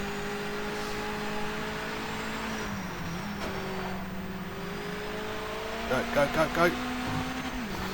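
A race car lapping in the video game Project Motor Racing on PS5, a steady engine drone with shifting pitch and a brief burst of rapid pulses near the end, while someone talks over it.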